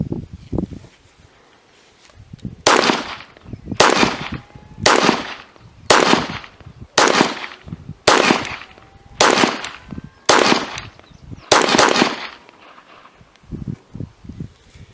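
Handgun shots ring out at a range, about ten sharp loud cracks fired in a steady rhythm roughly a second apart, each with a short echoing tail, after quieter handling sounds.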